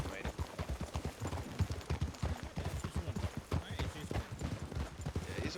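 Horse hooves clip-clop in a steady, rapid rhythm in the RedM (Red Dead) video game, close and clear throughout, with people talking over the hoofbeats.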